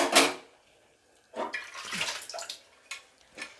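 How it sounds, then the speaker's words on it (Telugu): Water is poured into a pressure cooker of vegetables in a home kitchen, heard as short, quiet splashing bursts separated by brief pauses. "కొద్దిగా వాటర్ యాడ్ చేసుకుంటున్నాం."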